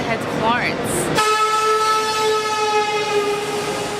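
Busy platform ambience at Milano Centrale station in Milan, with a long sustained train horn tone after about a second, rail and crowd noise underneath, and people talking in the background.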